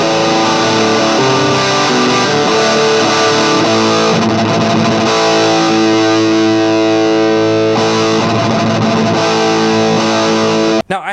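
Heavily distorted electric guitar playing loud sustained chords and riffs continuously before cutting off abruptly at the end.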